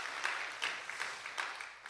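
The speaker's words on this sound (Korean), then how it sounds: "우리 잘하셨다고 우리 박수 한번 합시다" A church congregation at a Korean revival service claps in a soft, somewhat distant round of applause, with a few sharper claps standing out at a loose, steady pace.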